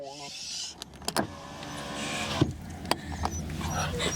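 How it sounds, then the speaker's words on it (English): A dog howls inside a car on a summer road trip, rising into a drawn-out, wavering whine in the middle of the clip over steady road rumble and a few sharp clicks. "he doesn't even bark, he howls"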